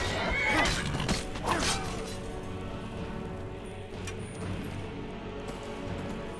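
A horse whinnies loudly near the start, a second shorter neigh follows, then the sound settles into a steady low rumble of background noise.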